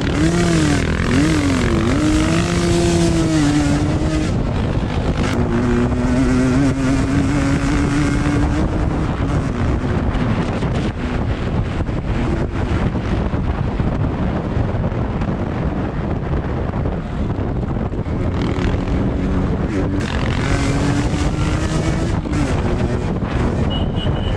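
A Yamaha DT125 enduro motorcycle racing on a trail, its two-stroke engine loud and close, revving up and down through gear changes under heavy wind buffeting, with no talk.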